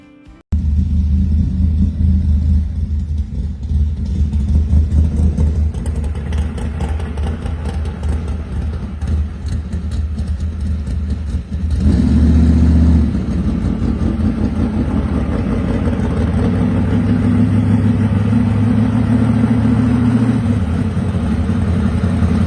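Pro street car with full exhaust and straight pipe dump on an electric switch, a loud deep engine rumbling at idle, then surging louder and revving from about halfway through before settling into a heavy, lumpy idle.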